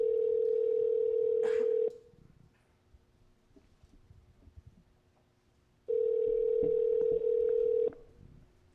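A telephone rings out during a long-distance call as a ringback tone heard over the line: two long steady tones, each about two seconds, with a quiet gap between them, clear and close.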